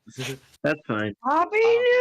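A house cat meows indoors, heard as short voiced cries mixed in with a person talking nearby.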